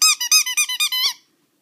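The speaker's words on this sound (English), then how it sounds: "Look, Bella, this one has lots of squeakers." A squeaky dog toy packed with several squeakers is squeezed in a quick run of about seven high, bright squeaks, ending in one longer squeak, close and loud with no talking.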